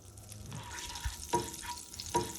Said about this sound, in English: We are going to fry the egg.